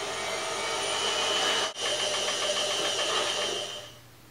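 A steady mechanical whir with a rhythmic churning pulse runs close and fairly loud, briefly dropping out for an instant before fading near the end.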